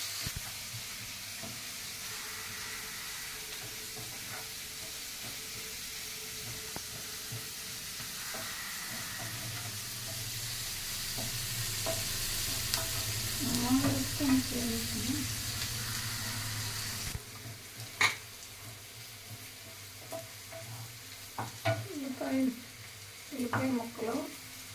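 Onion pieces frying in a pan for an Andhra-style prawn curry, stirred until golden: continuous sizzling with repeated spatula scrapes, a sudden dip midway, and a voice speaking briefly at times.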